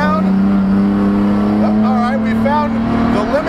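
A BMW E46 330ci Spec E46 race car's inline engine drones steadily at high revs from inside the car on a track, loud and continuous with rising pitch sweeps as it accelerates.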